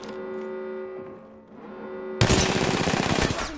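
Automatic gunfire in a PS4 first-person shooter bursts in loud and dense after a stretch of steady game ambience and hum, sounding as sustained rapid fire close by with no talk.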